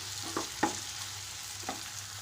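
Tomato and green chilies fry in a pan, stirred with a few distinct scraping strokes over a soft, steady sizzle, close up with no talking.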